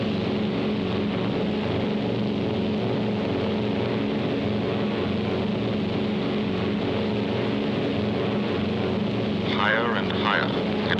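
A steady, distant roar of aircraft engines climbing high into the cold, thin stratosphere, a continuous broadband drone with wind-like texture and no breaks.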